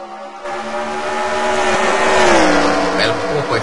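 NASCAR Sprint Cup race cars roaring around Dover during the FedEx 400, engine whine swelling in loudness with sweeping pitch as the pack passes, with an announcer talking over it.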